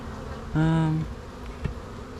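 Honey bees on a hive frame during a spring pollen flow give a brief, close buzz lasting about half a second, loud and steady over a quiet background, followed by a faint knock.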